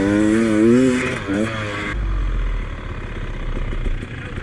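Beta motorcycle ridden at a demo day, its engine revving loudly near the start before settling into a steady, rumbling drone with a deep low thump as the ride continues.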